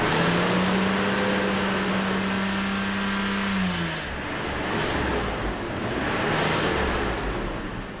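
Close engine of a Mercedes S600 coupe revved under throttle, a steady droning tone that holds and then drops away as the revs fall back toward idle, with a broad roar underneath.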